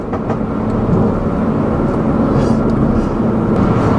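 A 2016 Ford Focus RS pulling in third gear, heard from inside the cabin as a loud, steady engine drone blended with road roar and no clear rise in pitch.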